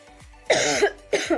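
Someone with a cold, fever and sore chest gives two harsh, close coughs about half a second apart, each a rough burst with throaty tail.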